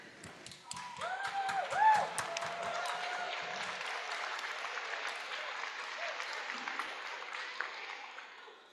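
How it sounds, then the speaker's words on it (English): An audience at a university convocation ceremony rises and applauds family members, a sustained wash of clapping in a large hall that swells and then holds steady. "can everyone stand up and please give a round of applause to your family members"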